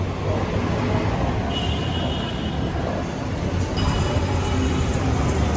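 Continuous rumbling roar of a light rail (LRT) train in motion, loud and steady, with a faint tonal whine at times.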